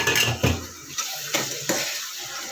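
A spoon scrapes and clinks against a pot while fried dried fish is mixed into a tomato curry with ginger-garlic paste and turmeric, in a few distinct knocks and scrapes separated by short pauses, close by with no talking.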